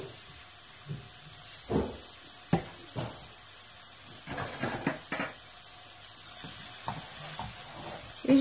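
Onions with a pinch of salt fry gently over low heat in a pan, a faint sizzle broken by intermittent soft clinks and stirring scrapes in a quiet kitchen.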